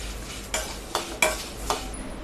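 Black gram (urad dal) dry-roasting in a pan over low heat, a faint steady hiss broken by four distinct scraping strokes of a stirring spoon, close and unaccompanied by speech.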